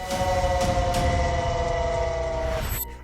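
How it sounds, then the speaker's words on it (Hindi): A steady, loud siren tone drones on over rumbling background noise, then cuts off abruptly near the end. "सायरन बज रहा है"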